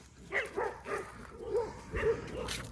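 Several small puppies yip and bark in quick, uneven bursts at close range at a dog training school, fairly soft overall.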